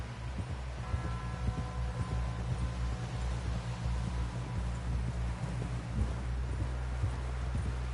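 Horse hooves clop in a steady, continuous rhythm while riding in Red Dead Redemption 2, set low in the mix beneath a constant droning hum and ambient rustle, with no clear talk over it.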